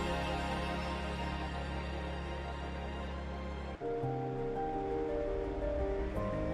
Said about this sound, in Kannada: ಒಂದು ಪಾತ್ರೆಗೆ ಹಾಕ್ಕೊಂಡು ಚೆನ್ನಾಗಿ ಈ ಥರ ನೀರು ಬಿಟ್ಕೊಂಡು ತೊಳಿತಾ ಇದ್ದೀನಿ